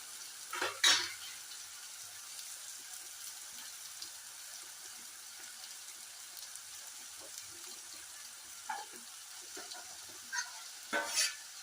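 Brinjal being stirred and fried in a pan with green chilli, giving a faint steady sizzle and a few soft scraping, clinking strokes of the spoon, quiet and close.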